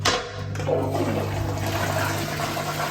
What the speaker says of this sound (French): il faut toujours vérifier si la chasse d'eau elle fonctionne bien.